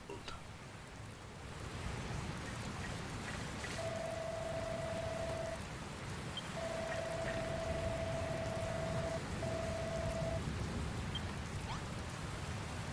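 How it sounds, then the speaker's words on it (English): Stormy rain lashes the sea in the video game Dragon Quest Builders 2, a continuous hissing downpour that stays steady throughout, with a few thin sustained electronic tones sounding over the wash. "Getting down out of the rain."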